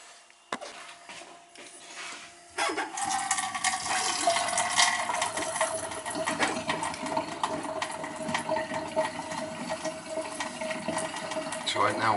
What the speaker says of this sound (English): So right now all the air is just pushing through the water line and pushing all the air out.